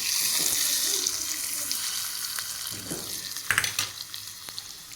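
Hot tempering poured over a sweet and sour raw mango techa, a hiss and bubbling splash that settles into a faint crackle with a few sharp clinks near the end.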